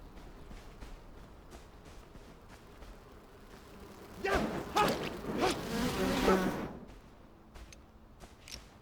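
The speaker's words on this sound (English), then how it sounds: "We got some bees." Insect buzzing from bees in the survival game Enshrouded, a faint hum that swells into a louder, denser drone for a few seconds midway before fading back.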